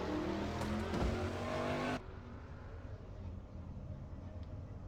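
A race car in an oval-track stock car racing series sim brakes hard into a turn, a loud engine roar that abruptly drops in pitch and intensity partway through, then settles to a lower rumble.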